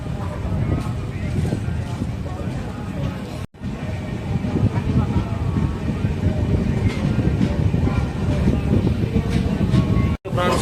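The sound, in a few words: train departing station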